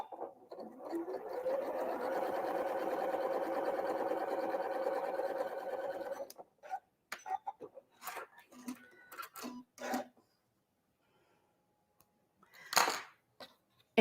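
A home sewing machine runs steadily for about six seconds while chain piecing a quilt block, then falls silent. Scattered clicks and fabric handling follow, with one louder rustle near the end.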